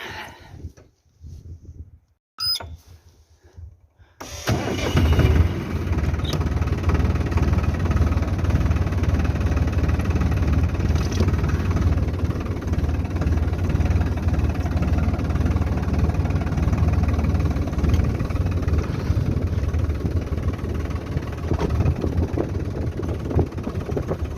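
A heavy tractor engine starts up after a few seconds of quiet and keeps running steadily at a loud, low idle, chugging on without pause, in cold mountain highlands.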